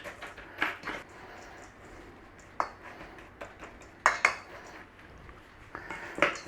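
Spoon or spatula clinking against a metal bowl while gingersnap crumbs are mixed with melted butter for a cheesecake base, a run of scattered, irregular scrapes and taps, fairly close, with no talking.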